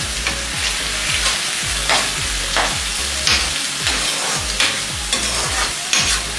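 Beans egg curry fries in a pan with a constant loud sizzle, broken by regular scraping strokes of a spoon stirring roughly every half second, with no voices.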